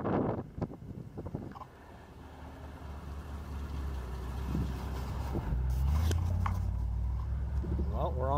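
A 1964 Pontiac Parisienne engine running after break-in, a low steady rumble rising gradually under wind buffeting, with brief talk at the start before the engine note dominates.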